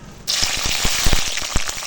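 Cashews and raisins hit very hot white oil and ghee in a kadai, setting off a sudden loud, crackling sizzle that continues with sharp popping spatters.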